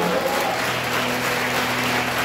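A church congregation at an Easter revival service claps hands above their heads, making a continuous, fairly loud wash of applause with a low electrical hum from the hall's sound system beneath.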